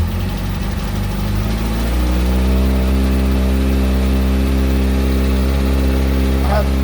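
A Kawasaki ZX6R sport motorcycle engine fires up and settles into a loud, steady idle close by, a low continuous rumble with a slight change in pitch as it catches, then holding even throughout.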